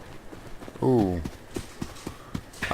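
A horse in the game Rust gives a short neigh-like call, then hooves thud in a quick, uneven clip-clop, moderately close, with faint background noise.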